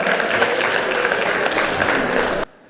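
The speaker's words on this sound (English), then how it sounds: "I would like to give him a round of applause" Dense, loud applause from a crowd, steady throughout and then cutting off abruptly at the end.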